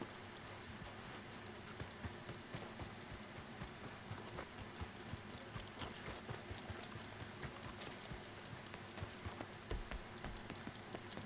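Horse hooves clip-clop in the video game Red Dead, a continuous quiet patter of hoofbeats under a rainy, hissing background.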